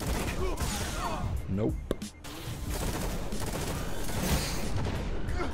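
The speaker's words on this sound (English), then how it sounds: "I need to shoot it just to see how this thing shoots" Rapid gunfire from the Lord of Wolves weapon in a first-person shooter video game, a dense burst of shots layered under someone talking, with game effects around it.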